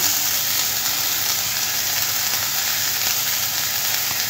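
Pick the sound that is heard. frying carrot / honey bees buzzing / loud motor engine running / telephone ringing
frying carrot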